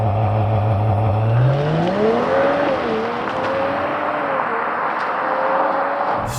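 A 2024 Mercedes-AMG CLE53 launches from a race start, its engine note climbing steadily through the revs with a brief shift dip, loud and close with a rushing, whirring edge and no talk.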